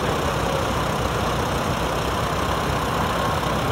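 A Farmall H tractor engine runs steadily at a low, even idle, loud and close, with a constant dense rumble and no voices.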